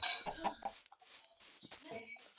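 Chickens in a video game cluck in short, choppy bursts, close and fairly quiet, with brief gaps between calls.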